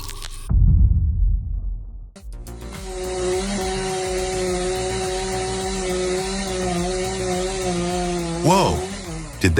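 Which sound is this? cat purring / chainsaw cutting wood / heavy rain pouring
chainsaw cutting wood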